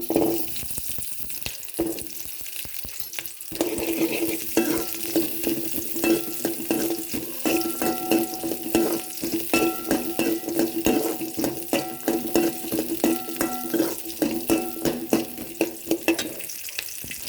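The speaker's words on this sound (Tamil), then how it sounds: "ஆயில் நல்லா ஹீட் ஆனதுக்கப்புறம் வெங்காயத்தை வந்து ஆட் பண்ணிக்கலாம்" Shallots and garlic frying in hot oil in a pan, a continuous bright sizzle with intermittent stirring scrapes and clinks, close and fairly loud, with no talking.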